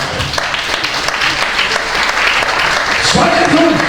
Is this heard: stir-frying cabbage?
no